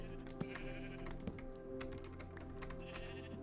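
Minecraft sheep bleating in a pen, mixed with rapid keyboard typing clicks over a steady game background hum, moderately close with no talk.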